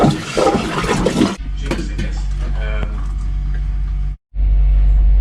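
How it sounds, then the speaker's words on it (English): A toilet flushing aboard a steel boat, a loud rushing surge up front that gives way to a steady low pumping drone, with a brief dropout near the end before the hum resumes. "flushing the toilet"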